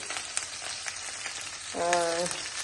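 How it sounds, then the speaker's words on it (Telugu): Green chillies sizzle in hot tempering oil, a soft continuous frying crackle at close range, joined near the end by a brief melodic tone. "ఇప్పుడు పచ్చిమిరపకాయలు తాలింపు పెట్టుకొని తాలింపు వేగినాక పచ్చిమిరపకాయలు చిల్లి పడుతుంది"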